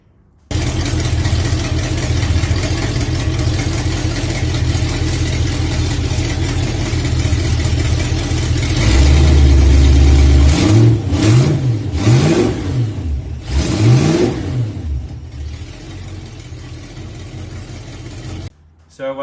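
A car engine of about 220 horsepower is run on a dynamometer, holding a loud steady drone, then revving up hard in several rising and falling sweeps before cutting off near the end.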